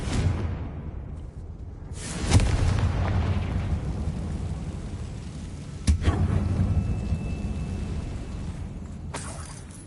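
Confringo fire spell blasts in an abandoned mine in Hogwarts Legacy, producing loud rumbling explosive booms with sharp bursts and a whooshing roar, layered over continuous low game rumble with no speech.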